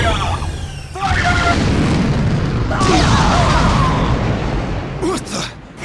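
Fleet ships in Asura's Wrath unleash a barrage of weapon fire and explosions, a dense sustained roar with booming bursts and rumbling blasts piling up, dropping off sharply at the end.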